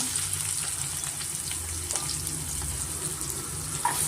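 Carrot, knol-khol, capsicum, beans, onion and curry leaves fry together in a pan for vegetable avalakki, a dense continuous sizzling hiss with faint occasional stirring, no speech.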